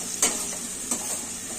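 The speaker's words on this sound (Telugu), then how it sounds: "కొంచెం బాగా ఎర్రగా వేయించుకోవాలి." Garlic and fenugreek leaves fry in a pan under a steady hiss, with two sharp stirring clicks standing out close by.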